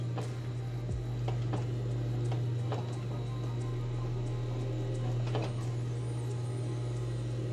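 A sewing machine stitches pieces of men's trousers. It makes a steady, fairly quiet motor hum with faint, irregular ticking running through it, and no voices are heard.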